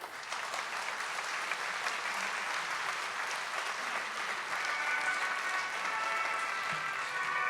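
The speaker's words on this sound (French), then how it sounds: "Merci d'applaudir Victor." A theatre audience at the Théâtre Marigny applauds, a broad, even wash of many hands clapping that holds steady throughout at moderate volume.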